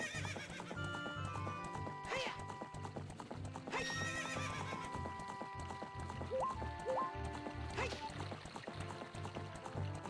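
Horse hooves clip-clopping at a gallop with several whinnies, set against continuous video game music in Zelda: Ocarina of Time.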